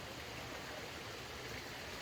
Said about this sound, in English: from the sounds of it, this little creek right here